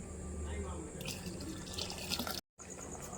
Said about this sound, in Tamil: தண்ணி பத்தலை, கொஞ்சம் தண்ணி கொஞ்சம் சேர்த்துக்கிறேன்.